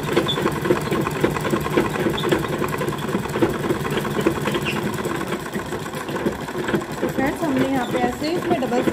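A sewing machine runs close and continuously, putting a second line of stitching along the seam of a salwar, its rapid whirring chatter steady throughout.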